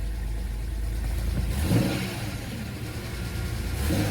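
A BMW E60 5 Series with 114,258 miles, its battery fully dead, runs after starting: a steady low engine rumble close by, with brief rises in revs partway through and again at the end.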